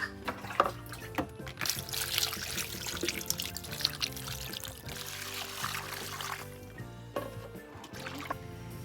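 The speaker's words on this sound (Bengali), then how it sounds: "মাছগুলো এখন ধুয়ে নেবো" Water pours and trickles over small cut pieces of fresh hilsa fish being washed in a kitchen, a steady splashing stream with intermittent dribbles and clinks, close and moderately loud.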